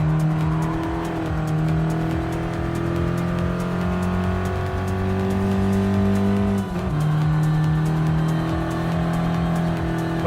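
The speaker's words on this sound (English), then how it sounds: "Go for the throttle, keep it nice and steady" A race car engine in Gran Turismo Sport drones loudly and continuously, its pitch climbing and shifting as it accelerates, with a brief dip midway before resuming at high revs.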